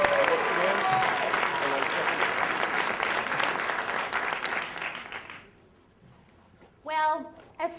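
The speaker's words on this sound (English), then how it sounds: "Clap once again for our first gold medalist tonight, Diane Yannick." Sustained applause from a story slam audience in West Chester fills the room, then fades out, followed by someone speaking briefly.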